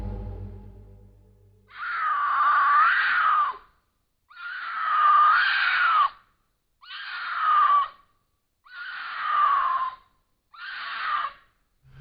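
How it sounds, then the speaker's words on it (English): Five long, shrill screams echo one after another inside a tunnel, each lasting a second or two with short silent gaps between, sounding like a large wild cat such as a mountain lion or bobcat. "Given the nature of the scream, it seems more likely that the noises were made by a large cat rather than a supernatural being."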